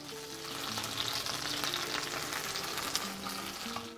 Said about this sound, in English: So now I'm gonna put it into the hot oil.